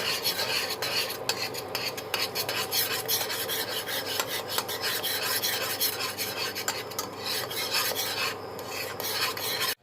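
Caramel stirred in a pan produces a continuous rasping scrape of a utensil against the pan, loud and close, with rhythmic rubbing strokes and no talking.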